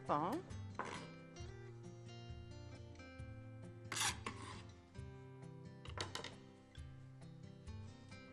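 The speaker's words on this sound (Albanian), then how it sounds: "I pres imët të gjitha perimet unë, barishtet" A knife finely chops vegetables and herbs on a board, with quick irregular strikes and scraping bursts over a background of tonal music.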